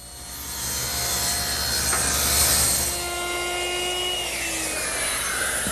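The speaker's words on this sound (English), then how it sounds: "raise the blade, and finish making the rabbet." A table saw blade cuts a rabbet in wood, the whine rising as the blade bites and then easing into a ringing, tonal hum as it spins down, close and clear with no voices.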